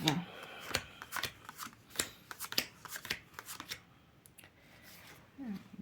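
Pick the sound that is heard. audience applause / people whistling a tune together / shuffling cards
shuffling cards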